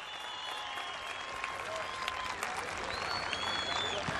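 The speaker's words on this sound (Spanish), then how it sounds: "Regáleme el aplauso bien fuerte, por favor" An audience at a public event in Mosquera claps steadily for the town's mayor, a dense continuous round of applause with some crowd noise mixed in.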